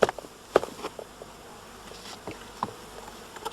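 Honeybees buzzing around a hive during a shook swarm, a steady insect drone with a few louder passes close by and some soft knocks and rustles.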